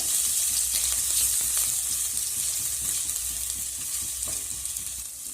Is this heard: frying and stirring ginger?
yes